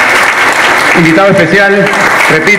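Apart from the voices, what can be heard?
applause for a guest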